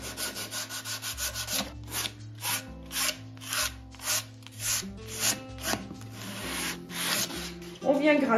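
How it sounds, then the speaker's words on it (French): Painted surface scraped with a grade 120 sanding pad for a shabby-chic finish, a rhythmic series of close rubbing strokes over soft background music. "On vient gratter, moi je prends le tampon 120"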